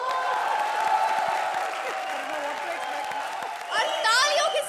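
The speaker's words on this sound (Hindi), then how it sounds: "तो सबसे पहले a very big round of applause" Applause and cheering from a studio audience on a TV comedy show. A broad wash of crowd noise runs under a speaking voice, with a louder swell near the end.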